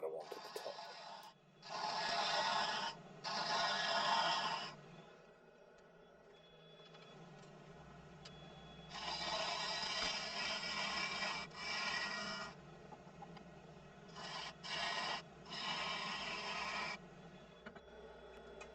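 Gouge cutting the inside of a small natural edge birds mouth wooden bowl on a lathe, producing repeated rasping cuts of a few seconds each with a steady motor hum beneath, no speech.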